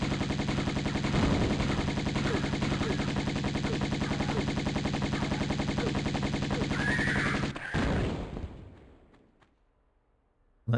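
Lara's guns firing in the video game Tomb Raider Remastered, a rapid, unbroken stream of shots lasting several seconds before it cuts off and fades into near silence.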